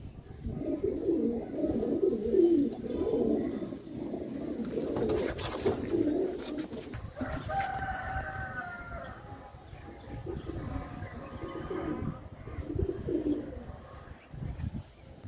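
Double mohar golden pigeons with red eyes coo in a long, steady stream of low, bubbling calls close by, other birds chirping faintly in the background and occasional rustling.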